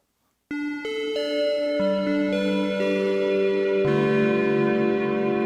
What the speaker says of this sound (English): Like one of the easiest bell sounds of your life.